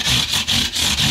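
Rhythmic rubbing strokes as a 320 grit flap sander works over an acoustic guitar, close and loud, with about four quick passes.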